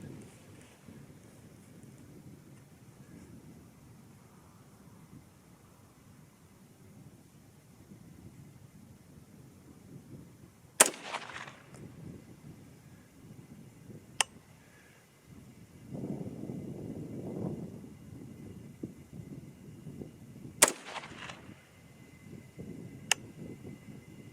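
A 6mm ARC rifle fired at a 100-yard target outdoors: a few sharp, separate cracks spaced seconds apart, two louder than the others, over a constant rumble of wind noise.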